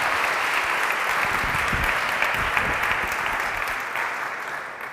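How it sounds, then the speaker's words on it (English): Applause fills a hackathon hall in Valencia, a dense clapping crowd sounding close and loud for about five seconds. It tapers off slightly toward the end, with no talk over it. "Big clap for him."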